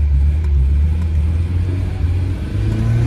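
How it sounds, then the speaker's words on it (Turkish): A Tofaş car idling with an exhaust that knocks against its mounts, a loud, steady low engine rumble with an uneven rattling throb running through it. "araba boşta çalışırken bak, egzoz sağa sola vuruyor"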